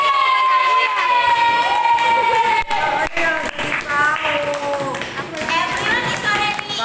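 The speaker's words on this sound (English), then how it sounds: "applause" Classroom audience applauding after a student presentation on amphibians, a steady wash of clapping with children's voices and chatter running over it throughout.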